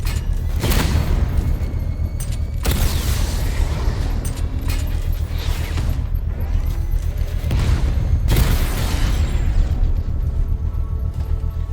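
A drone blown up in Batman: Arkham Knight, heard as loud booming blasts, two big bursts about six seconds apart, over a constant rumble of game combat noise.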